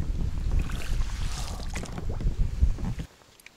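A boat is rowed on a river. Oars splash and knock under wind noise against the microphone, and the sound cuts to near silence at the end.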